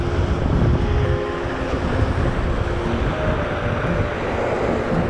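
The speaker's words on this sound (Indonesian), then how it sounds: "kondisi angin dan ombak lumayan besar" Loud, constant roar of strong wind buffeting a river-mouth fishing spot, with a low rumbling wash of big waves underneath, steady throughout.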